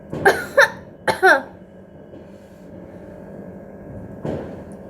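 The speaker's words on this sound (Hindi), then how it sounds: "ये ऐसा लग रहा है जानबूझ के खांसी है" Two or three sharp, forced coughs close to the mic, followed by a quieter huff a few seconds later over faint background noise.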